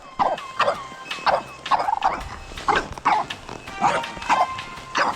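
A dog barks at a horse in a repeated, fairly regular series of sharp close barks with yelps in between, heard alone without talk.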